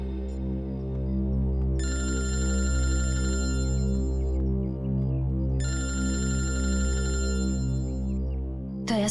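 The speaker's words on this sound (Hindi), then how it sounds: "दया सर का फोन?" A telephone bell rings in two long bursts separated by a pause, loud and steady over a continuous low hum, in an indoor police drama scene with no talk.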